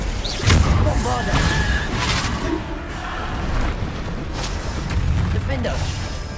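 Repeated Bombarda spell blasts in Hogwarts Legacy on PS5, booming bursts and crashing impacts with whooshes, dense and loud throughout, with a voice speaking over the action.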